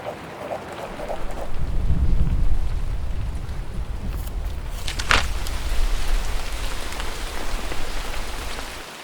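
A rain sound effect patters steadily throughout, joined midway by a deeper rumble and a brief sharper splash, with no voices.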